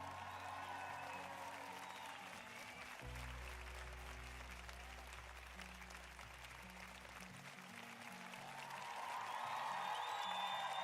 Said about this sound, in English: let us give Baba a round of applause